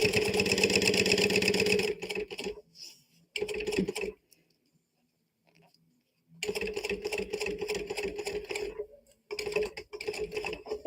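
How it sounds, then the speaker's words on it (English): Sewing machine top stitching along waterproof canvas beside vinyl, running in loud steady bursts of rapid stitching, with a quiet pause in the middle before stitching resumes, briefly stopping again near the end. "I'm going to top stitch along the waterproof canvas, not the vinyl"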